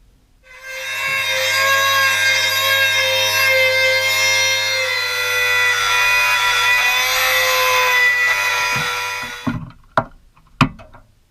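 A power tool grinds and saws through rusted sheet metal to cut out a seatbelt mount on a 1970 VW camper bus, a loud continuous whine for about eight seconds before winding down, followed by a few sharp clanks.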